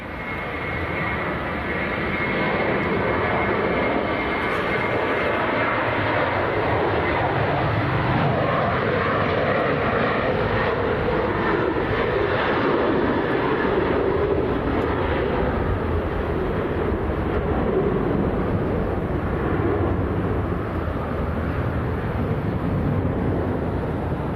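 Steady, loud jet aircraft engine roar at Leeds Bradford Airport holds throughout, a continuous broad drone without pause.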